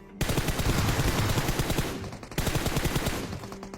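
An M4 rifle fires in a video game in two rapid full-auto bursts, loud and close, with a brief pause between them and no talk.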